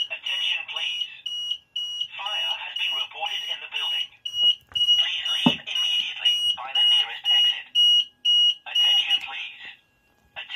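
An Apollo XP95/Discovery addressable fire alarm system with a C-Tec XFP panel sounds during a test, a pulsing high-pitched alarm tone alternating with a recorded voice announcement, fairly loud and indoors.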